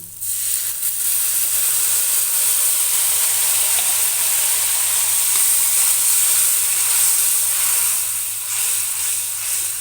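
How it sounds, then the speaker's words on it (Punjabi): A glass of water hits hot masala frying in oil for a Punjabi arbi curry, bursting into a loud, sustained steam hiss that holds steady for several seconds before easing slightly, heard alone up close. "ਹੁਣ ਇਸ ਵਿੱਚ ਇੱਕ ਗਲਾਸ ਪਾਣੀ ਦਾ ਪਾਵਾਂਗੇ"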